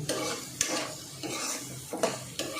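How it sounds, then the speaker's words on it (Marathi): Peanuts and onions roasting in a pan sizzle close up, with repeated scraping stir strokes and faint utensil clinks at a fairly regular rhythm. "आता कांद्याबरोबर परत शेंगदाणे भाजले जाते"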